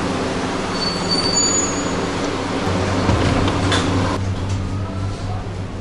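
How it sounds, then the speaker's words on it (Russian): Riding aboard the Antalya tram heading toward the airport: a steady low rumble of wheels and motor with rolling interior noise, a faint high whine and a shift in tone partway through, no voices. "Вот он, анталийский трамвай. Едем в сторону аэропорта."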